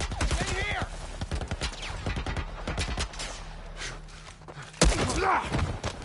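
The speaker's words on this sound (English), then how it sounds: "Some kind of military turret" Rapid bursts of automatic fire from a military turret in The Last of Us Part 1, loud and dense through the first seconds with a heavy thud near five seconds, while people shout and talk over the gunfire.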